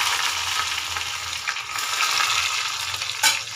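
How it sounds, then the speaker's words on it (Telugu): Mustard seeds, cumin, dried red chillies and garlic frying in hot oil for a tempering, a loud continuous close sizzle with a few stirring knocks. "మనం ఇప్పుడు తాలింపు వేసుకున్నాం."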